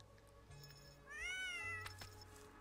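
A cat meows once, clearly and fairly close, in the video game Dordogne, with a quiet ambient hum and soft game tones around it.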